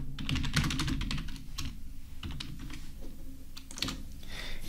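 Rapid clattering keystrokes on a computer keyboard, close and clear, in quick irregular bursts with brief pauses, continuing steadily over a quiet background.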